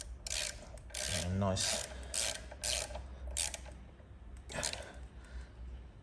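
Ratchet tightening a bolt on a Suzuki Bandit front brake: repeated rapid clicking bursts in a steady rhythm, close and fairly loud, with a brief spoken remark early on.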